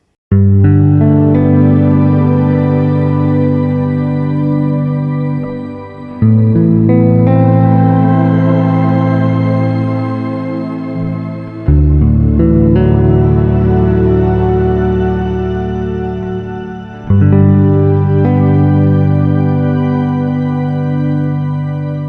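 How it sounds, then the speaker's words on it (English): Sustained guitar chords played through a shimmer reverb pedal ring out one after another, each swelling into a bright, shimmering wash of reverb that trails off before the next chord. "Here's a Shimmer reverb."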